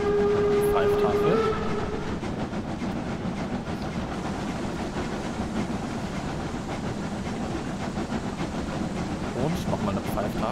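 A steam locomotive on the Brocken railway in Train Simulator Classic sounds a steady, loud whistle blast for about a second and a half before it cuts off, leaving the continuous rumble and clatter of the moving train.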